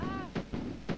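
An anti-aircraft cannon in the mobile strategy game Battle Islands Commanders fires in three quick, evenly spaced thumping bursts, moderately loud, with a short tonal whine at the start.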